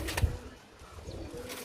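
A pigeon kept for sale cooing softly nearby, low repeated coos with a light rustle or thump near the start, no talk.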